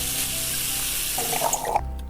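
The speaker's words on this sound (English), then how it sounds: "Go ahead and just fill this pot up with water because you gotta boil your macaroni." Tap water from a kitchen sink pours steadily into a pot in the Cooking Simulator video game, a loud continuous gush with splashing near the end before the flow cuts off abruptly.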